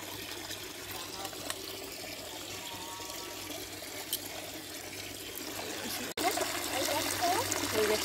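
Water trickles and pours steadily into a container for a bath, soft and continuous, while people talk nearby.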